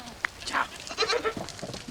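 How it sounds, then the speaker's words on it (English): Goats bleating as they are herded through a dry riverbed in the Namib Desert, several short close calls overlapping in quick succession over light background noise. "The daily herding of goats usually occurs in the dry riverbed."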